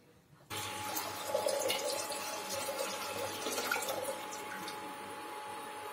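Drinking water being poured for kadha, a steady close pour beginning abruptly after a short quiet moment and running continuously to the end with no talk.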